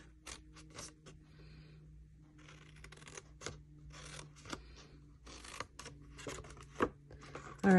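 Scissors snip through cardboard treat box flaps in a run of short, sharp, close cuts with quiet gaps between them, and handling noise and a faint low hum underneath.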